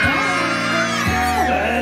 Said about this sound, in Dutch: Ik tel tot drie en dan roepen we heel hard draak.